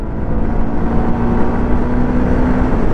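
A 2025 Honda Unicorn 160 motorcycle pulls away, its engine droning steadily and loudly close by as it accelerates, with a faint tone rising slightly.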